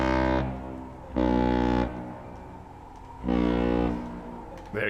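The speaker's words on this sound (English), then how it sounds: "We've honked the horn." A vehicle horn in the video game Astroneer sounds three times, long low brassy blasts of roughly a second each separated by gaps of ambient hum.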